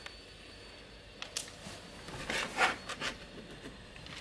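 A handheld tool trims excess frosting film on a glass window, producing a few short, close scraping and rubbing strokes in a quiet room.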